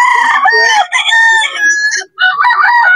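Stag roosters crow loudly and close by in a series of long, strained calls with short gaps between them, mixed with brief clucks from the fowl.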